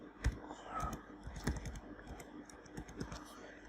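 A password is typed on a computer keyboard while a MikroTik router is being configured, giving a steady, close run of soft key clicks at an even, moderate pace.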